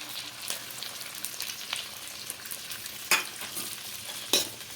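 Onion, capsicum and chopped green chilli lightly frying in a pan for restaurant-style chilli chicken, giving a continuous soft hiss and sizzle close by, broken by two brief sharp clicks of stirring.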